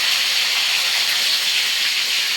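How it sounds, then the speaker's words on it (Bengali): Small khoira fish fry in a pan, a steady, bright hiss of spitting oil holding at even loudness throughout with no voices. "মাছগুলোকে ভাজা করে নিই।"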